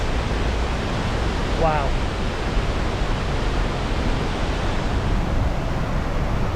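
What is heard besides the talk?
Henrhyd Falls waterfall, Brecon Beacons, Wales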